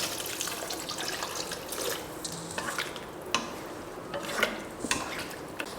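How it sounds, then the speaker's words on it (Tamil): Water poured into a pot of chickpea curry in a home kitchen, a soft trickling splash with a few light clinks and knocks of utensils, fairly quiet and close. "இன்னும் கொஞ்சம் தண்ணி சேர்த்துடலாம்."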